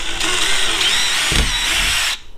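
A power drill with a 1/8 inch bit whines steadily, close and loud, as it bores holes into a Perception Outlaw 11.5 kayak hull, then cuts off abruptly.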